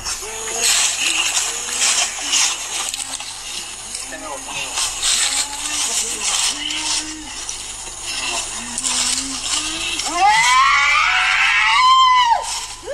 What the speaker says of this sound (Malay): dia menjerit dengan kuat.